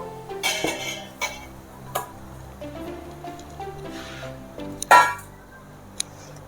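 Sheermal dough being moved into a bigger bowl, with soft knocks and scrapes of the bowl and utensils against a low background hum, plus a louder clatter near the end, close by and with no speech.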